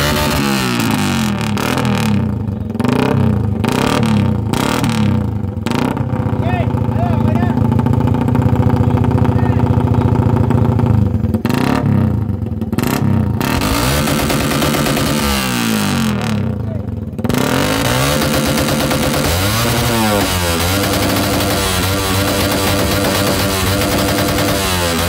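A motorcycle with a very loud aftermarket exhaust pipe revs hard during a sound check, roaring in repeated blips and sustained bursts that rise and fall, close and dominant throughout, with brief drops back to a rumbling idle.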